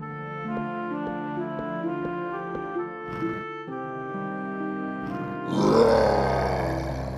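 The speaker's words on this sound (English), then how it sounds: "Just then, a roar was heard again and the beast came into the hall." A beast in a fairy-tale castle lets out a loud, rough roar near the end, following a stretch of sustained orchestral music.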